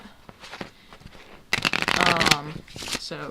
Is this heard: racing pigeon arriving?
no